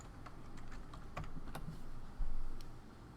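Keys tapped on a computer keyboard while typing a short search term, a quick irregular run of light clicks, fairly quiet with low background hum and no voices.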